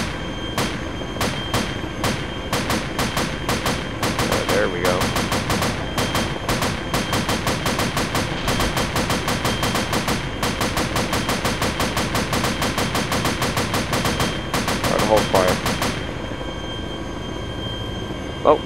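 Sustained automatic gunfire in the military game Arma 2 during a night operation, with long rapid bursts of machine-gun fire continuing almost without pause, loud and close, without voices.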